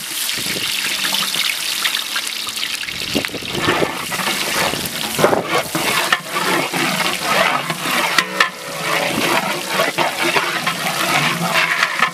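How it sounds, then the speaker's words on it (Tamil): Onions hitting hot oil for Kashmiri pulao, a loud broadband hiss and crackle that runs steadily throughout with uneven bursts, no voices. "நல்லா எண்ணெய் கொதிச்சு வந்த உடனே இப்போ வெங்காயம் சேர்த்துக்கிறோம்."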